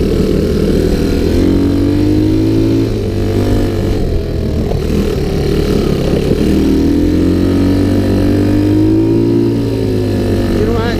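A Sunl 110cc ATV engine drones steadily in second gear, a loud, close, continuous buzz with gentle rises and dips in pitch as throttle shifts, with someone talking over it.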